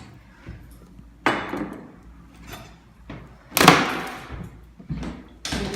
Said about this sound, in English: You can grab your pry bar and get it right in here. Just pry that little piece of trim out.